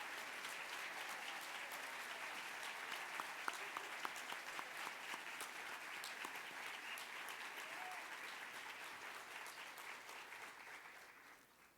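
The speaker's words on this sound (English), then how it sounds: "I'd like to ask that you rise so we can give you a round of applause for your service" Sustained audience applause at an awards luncheon for a law center, honoring staff as they stand; steady dense clapping from a large room, heard at a distance, tapering off at the very end.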